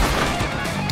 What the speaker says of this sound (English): I shot him through the window.